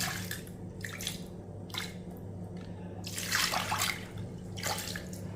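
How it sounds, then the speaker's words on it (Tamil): Soaking water splashes and pours in several short bursts into a pressure cooker pan, with steady background hum between the pours. "நல்லா ஊற வச்ச தண்ணியும் இதிலே ஊற்றிக்கிடுவோம்"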